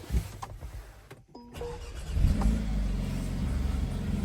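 A 2022 Mercedes A35 engine cranks briefly and catches, then settles into a steady, fairly loud idle rumble, heard from close by.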